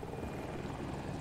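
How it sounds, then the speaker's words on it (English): Helicopter in the video game Battlefield 2042, a Little Bird chopper on an icy map, heard as a steady pulsing rotor drone, fairly close and continuous with no talking. "I saw a green chopper, so I thought you were in it."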